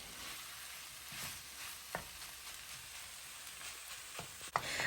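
Paneer bhurji crackling and frying in a pan with a soft continuous sizzle, quiet and steady, broken by a few light clinks of a stirring spoon against the pan.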